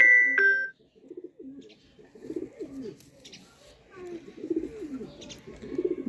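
Teddy pigeons cooing in a loft, low rolling coos repeating steadily and close, after a brief bright electronic chime at the start; a voice talks faintly underneath.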